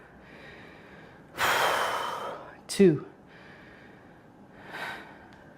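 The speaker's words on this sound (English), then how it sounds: "Yes, you can hear me breathing hard too." Heavy breathing during a bicep curl workout: a loud forceful exhale, a sharp snort-like breath, and a softer breath later, close to the microphone, with a voice briefly counting reps.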